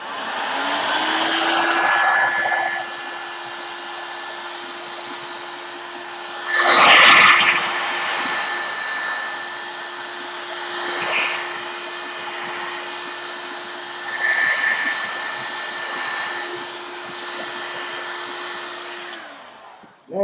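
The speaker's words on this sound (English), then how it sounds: "so a quick scoop with the heat gun" A heat gun blowing hot air over a painted canvas, a loud steady whirring roar with a sustained whine that holds for nearly twenty seconds, swelling briefly in a few bursts as it moves, with no talking.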